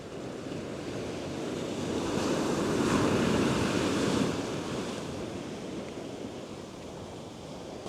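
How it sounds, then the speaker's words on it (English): Ocean waves crash on a beach shore at a campground, heard as a broad, continuous roar that swells and recedes, with wind noise on the microphone and no voices. "We can hear the waves crashing on the shore from our RV."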